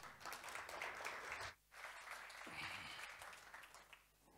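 A crowd claps for a tax partner at a PwC Namibia budget speech, the sustained applause dipping briefly in the middle, then continuing steadily and tapering off near the end.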